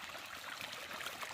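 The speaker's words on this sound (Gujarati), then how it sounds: "પાણી ચાલુ કરી દીધું છે અત્યારે હાલ" Irrigation water running through a farm field, heard as a steady rushing trickle like a small stream with no talking.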